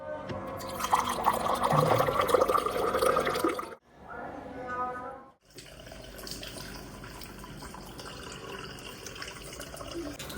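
A tap runs water as a father and son perform wudu ablutions, splashing steadily at close range, pausing briefly, then flowing again more softly while voices talk nearby.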